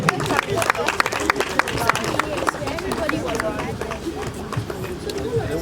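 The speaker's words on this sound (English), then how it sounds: "I think that we should give Zach and his parents an absolutely huge round of applause" Audience applause at a book launch, a sustained wash of clapping from a crowd with chatter and murmuring voices underneath, fairly loud and continuous for several seconds.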